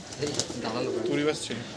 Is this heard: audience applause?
no